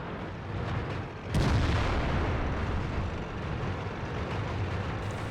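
A tank cannon fires once in World of Tanks, a single sharp booming blast near the start that leaves a long rumbling, noisy battle ambience afterward.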